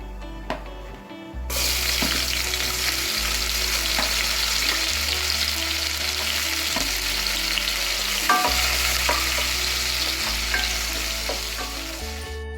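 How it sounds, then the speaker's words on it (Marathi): Finely chopped onion sizzles in hot oil with sesame seeds in a pan, a steady bright crackling hiss that starts abruptly and continues, with occasional stirring clinks. "कांदा आपला फ्राय झालाय गुलाबी कलर आलेला आहे"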